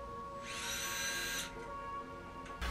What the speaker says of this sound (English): I used my drill with a masonry bit to make marks where the holes would go